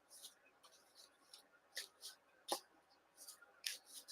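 Soft, quiet rustling and papery flicks of tarot cards being shuffled come in irregular bursts, with brief sharper snaps of cards riffling close by.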